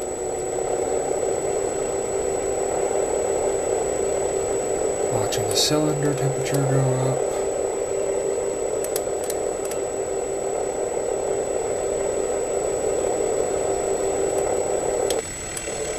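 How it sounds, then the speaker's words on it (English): A SOKO J-20 piston aircraft engine idles in Flight Simulator X with a steady, unbroken hum and a faint high whine. Someone speaks briefly over it. "And the engine has started."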